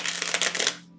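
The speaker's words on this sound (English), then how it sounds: "As I'm shuffling cards," Tarot cards being shuffled by hand, a close, rapid riffling patter for most of a second that stops into quiet, with no speech.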